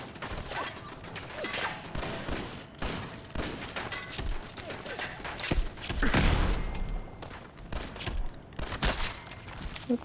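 Gunfire in a shooter video game crackles in rapid bursts and scattered single shots, with mechanical clicks between volleys, heard close and moderately loud with no talk.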